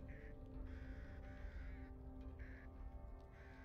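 Crows caw repeatedly in the video game Back 4 Blood, harsh calls coming in a loose series of about five, over a low rumbling game ambience.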